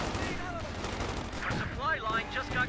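Dense gunfire from a Company of Heroes 2 match rips through a US rifle squad, a steady rattling fusillade of game weapons with faint voices and battle effects mixed underneath throughout.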